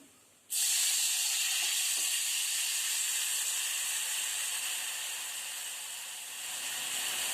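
A sudden loud hiss erupts as water hits red chili masala in a hot pan, then settles into a steady, close steam-like sizzle that barely fades.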